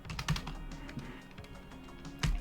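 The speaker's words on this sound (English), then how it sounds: "I'm actually doing the code now instead of just typing out what I'm about to do." Code being typed on a computer keyboard: a run of quick, close key clicks at an irregular rhythm, with a few heavier strikes standing out, and no talking.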